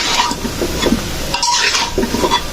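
Mango pickle being stirred in a pan, heard as close, rough scraping of a spoon around the pan in a few uneven strokes, with faint clinks of metal and no talk.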